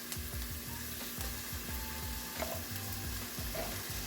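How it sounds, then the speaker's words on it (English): Ground sausage and garlic sauté in a pan, a soft steady sizzle heard under a low rhythmic rumbling and a few faint clinks. "saute all this until it gets soft and mushy, sort of mushy"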